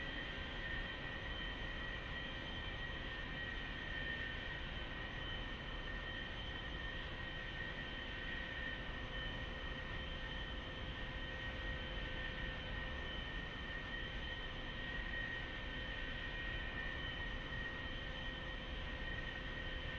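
A-4E jet in the DCS World flight simulator holding a steady, droning engine roar with a constant whine on top, unchanging and loud throughout with no talk.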